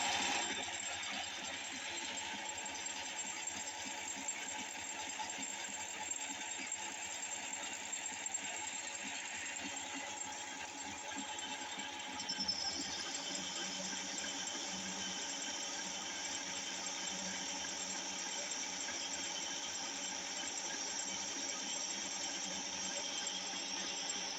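A TV-3 metal lathe runs while it cuts its first chip, a steady mechanical whine and hum with faint rattling that continues evenly, and a brighter high tone joins partway through.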